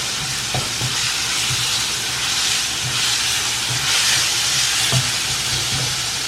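Soy sauce sizzles hard in a hot pan while Thai basil chicken is stir-fried, a loud continuous hiss with faint rhythmic scraping and tapping underneath, close and without speech.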